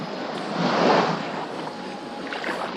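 Water sloshing and lapping against a small paddled boat or kayak on the sea off South Australia, a steady wash with a swell of louder splashing near the middle, mixed with wind noise on the microphone.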